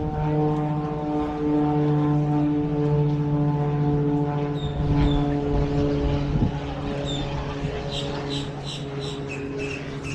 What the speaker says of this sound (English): Oh, look at that plane over there.